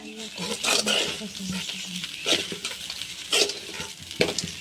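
Avalakki (flattened rice) is fried and stirred in a pan: a soft, steady sizzle broken by repeated scraping strokes of the spoon, heard close while someone talks over it.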